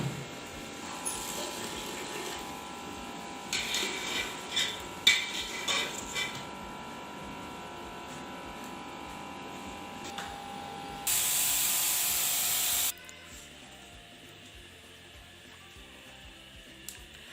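A loud, steady hiss of escaping steam bursts from a pressure cooker cooking chicken korma for a couple of seconds, standing out over quieter kitchen clatter and clinks.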